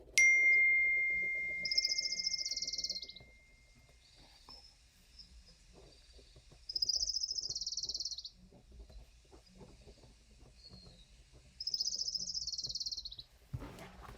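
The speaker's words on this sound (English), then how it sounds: "How would you describe the dark-eyed junco when you listen to it?" Three bright, high musical trills from a dark-eyed junco, each about a second and a half long, separated by quiet gaps over faint background noise.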